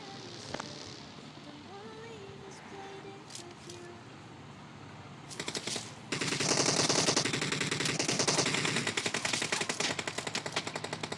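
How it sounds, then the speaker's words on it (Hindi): Gunfire from all sides in PUBG Mobile, rapid bursts of automatic shots building from scattered pops into a dense, loud fusillade, with a voice talking faintly early on. "हर जगह से फायर हो रहा था"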